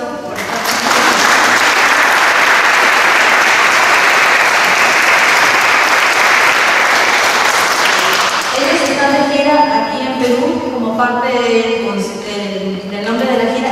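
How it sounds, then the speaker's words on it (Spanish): A live audience gives loud, sustained applause for a Colombian band, a dense wall of clapping for about eight seconds that gives way to band music and voices as it fades. "para quienes pido un fuerte aplauso"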